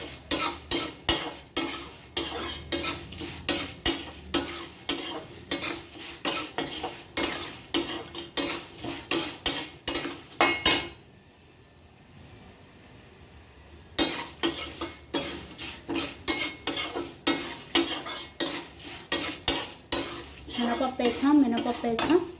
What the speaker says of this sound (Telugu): ఇలా వేగనివ్వాలి బాగా